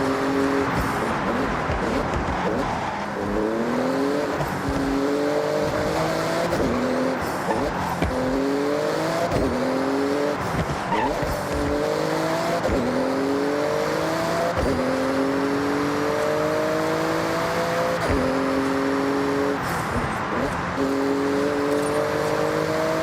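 A Porsche races through a speed zone in Forza Horizon 6, its engine loud and close, climbing through repeated rising rev sweeps with gear changes and brief tire squeals, steady and without talk.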